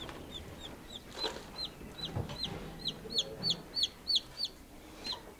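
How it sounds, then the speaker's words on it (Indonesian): Hens cluck and chicks peep on a small quail and chicken farm among newly hatched chicks, ducklings and quail, a run of faint, repeated high chirps with occasional soft clucks, no talking. "Ada satu anakan ayam di situ."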